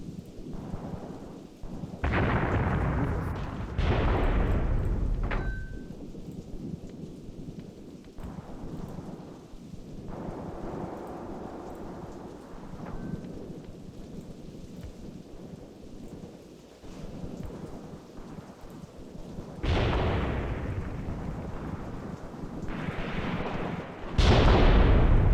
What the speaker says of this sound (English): I love those little mortars.